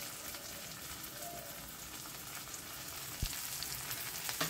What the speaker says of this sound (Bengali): এদিকে দেখো ফোড়নটা আমার বেশ ভালো ভাজা হয়ে গেছে।